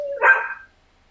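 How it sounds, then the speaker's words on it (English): A single dog gives one short, sharp bark nearby, followed by silence. "That's just a dog being a dog."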